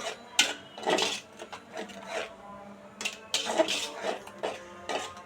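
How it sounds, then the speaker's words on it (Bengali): Onions being stirred and sautéed in a pan for a prawn and taro root curry, with soft scraping and rubbing strokes of a utensil against the pan in irregular bursts, close up and with no talk. "এবার ভালো মতো পেঁয়াজটাকে কষিয়ে নেব।"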